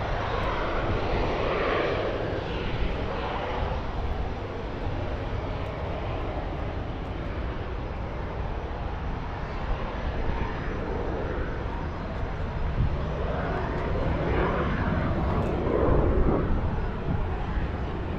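Airplane engine droning steadily near Burke Lakefront Airport on the Lake Erie shore in downtown Cleveland, a continuous moderately loud roar that swells slightly toward the end.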